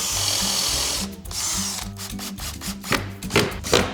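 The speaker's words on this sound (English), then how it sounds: "I'm ready to pre-drill them all." Power drill pre-drilling holes in wood, several short whirring bursts that rise and stop in quick succession, close and clear, ending with sharper clattering bites into the workpiece.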